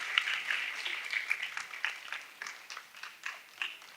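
Light applause from a small audience welcoming the host of a children's workshop on spending smart, scattered and fairly faint claps over about four seconds with no talking.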